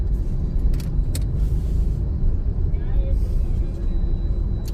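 A car driven by a learner pulls away slowly after the clutch is released, its steady low engine rumble filling the whole stretch at close range, with an instructor's voice speaking over it.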